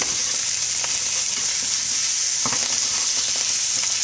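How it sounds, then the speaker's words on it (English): Salmon skin popping and sizzling in a hot pan on the stovetop, a steady loud fry with scattered sharp crackles, close and with no talking. "So that's the skin popping."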